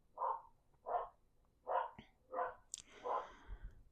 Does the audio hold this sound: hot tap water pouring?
no